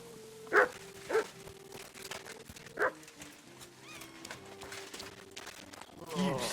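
Dog in the Kingdom Come Deliverance 2 video game barking three times in sharp separate bursts, then whimpering and yipping, with someone talking and horse hooves clopping in the game scene.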